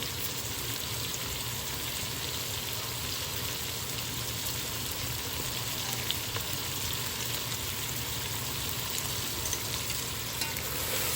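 Spring onions frying in a pan for veg pulav, a steady dense sizzle with crackling spatter throughout, close and constant, with no speech.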